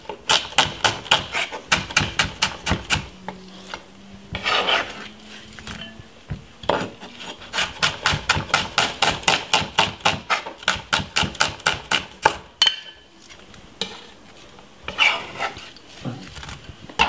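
A knife cuts red onion on a board for a simple salad, with rapid rhythmic chopping taps in several long runs broken by short pauses and scraping, loud and close.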